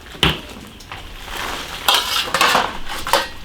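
Metal ladle clanks and scrapes against a pot as boiled beef chunks are scooped out for rinsing, a few sharp clinks amid wet handling noise close by.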